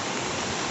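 Floodwater rushing behind a house after two hours of heavy rain, a steady broadband roar of flowing water that stays constant and fairly close throughout, with no voices.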